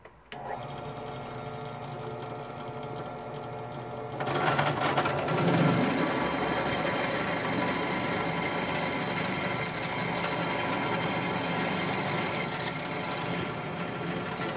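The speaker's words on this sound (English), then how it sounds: "so now I can drill it from the top." A drill press boring holes from the top through a workpiece for a recycled CNC machine build, a steady close motor whir that swells into louder grinding, cutting chatter partway through.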